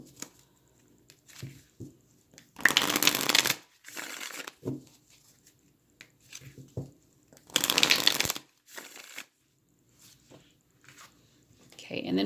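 Tarot cards being shuffled by hand in two loud, rustling bursts of riffling, close to the microphone, with quieter handling and soft talk in between.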